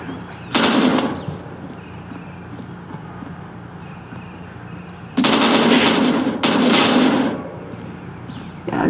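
Gunfire from guns in the video game Unturned, with a short rapid burst of automatic shots followed by a longer rattling burst and another volley, loud against quiet game ambience, with no speech.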